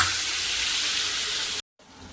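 Pieces of chicken curry with spices fry in a pan, giving a loud, steady hiss of sizzling up close that cuts off abruptly before resuming more quietly.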